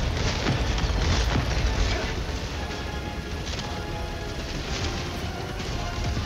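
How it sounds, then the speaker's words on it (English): A continuous barrage of booming explosions in the Helldivers 2 shooter, with thermite and heavy fire hitting an armored Strider walker, dense and loud throughout, blending into a rumbling crackle. "there's so many explosions. Honestly reminds me of the 4th of July, just hearing the sounds like fireworks."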